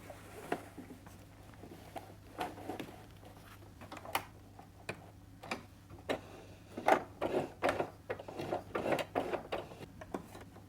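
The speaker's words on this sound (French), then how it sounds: "je tends l'élastique quand je suis sur la machine et je viens coudre au point droit avec les mêmes réglages" Sewing machine sewing a straight stitch over stretched elastic on boxer-shorts fabric, with quiet uneven bursts of rapid ticking stitches that speed up and cluster near the end.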